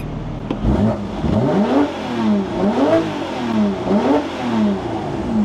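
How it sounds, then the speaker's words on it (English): A Porsche 996 911 Turbo engine revved repeatedly in a steady pattern of rising and falling blips, each swell climbing sharply then dropping back, loud and close with no voices over it. "Here, rev it up."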